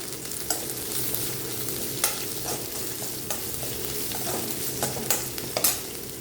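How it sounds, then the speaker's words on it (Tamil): Onion sautés in a pan for a bitter gourd and tomato side dish, the spatula scraping and tapping at irregular intervals over a steady, close sizzle, with no talking. "அதையும் இந்த வெங்காயம் நல்லா வதங்கினதுக்கப்புறம் சேர்த்துக்கலாம்"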